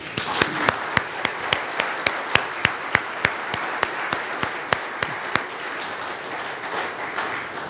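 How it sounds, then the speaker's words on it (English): A Lutheran church congregation applauds as new members are welcomed. One person's crisp claps ring out close by in a quick, even rhythm over softer applause from the room, then fade toward the end. "I invite you to welcome these new members by your applause."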